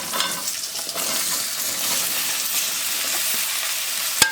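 Potatoes tumble into a pan of frying cumin and turmeric, setting off a loud, broad sizzle that hisses steadily, with light scrapes and a sharp click near the end, no voices.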